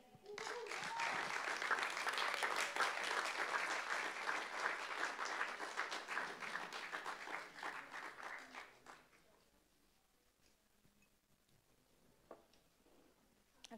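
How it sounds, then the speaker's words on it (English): Audience applause at a live performance at The Bedford, a dense wash of clapping that holds loud and steady for about eight seconds, then fades away into near quiet with a few scattered claps. "Your claps are very, you know, keeping me going"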